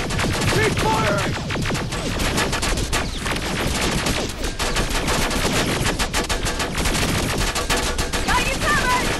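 Dense, rapid gunfire from the video game Terminator Resistance fills a firefight, with sustained automatic bursts and overlapping shots, loud and continuous throughout.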